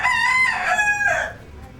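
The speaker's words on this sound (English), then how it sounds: "These chickens crow anytime they want to." A rooster in Key West lets out a single loud, close crow, a strained harmonic call lasting over a second against quiet background.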